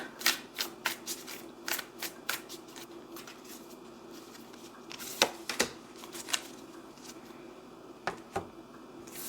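A deck of connection cards used as journal prompts is shuffled by hand nearby, with a run of crisp riffling flicks and soft card slaps in an irregular rhythm, and no talking.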